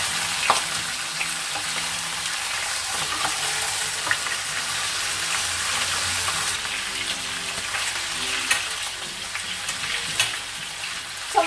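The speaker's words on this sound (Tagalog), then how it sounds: "So I put all my chicken inside. I want this to get brown." Chicken pieces fry in a pan for a braised chicken dish, a steady dense sizzle with small pops and occasional stirring scrapes, close and continuous.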